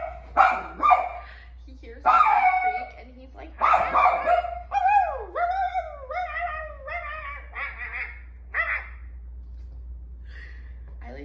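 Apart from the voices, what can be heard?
dog barking and whimpering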